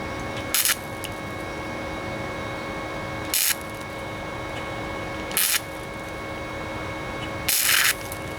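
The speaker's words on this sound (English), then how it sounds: "do a series of spot welds to keep it in place" A MIG welder lays a series of short spot welds on a patch over a 1998 Ford Ranger driver's side wheel arch, four brief crackling bursts spaced a few seconds apart over a steady hum, close and without talk.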